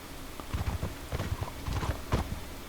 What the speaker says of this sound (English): Mongol horse, desert horse.